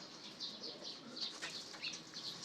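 A pigeon's wings flap in quick repeated bursts, a faint fluttering rustle close by, with no voices present.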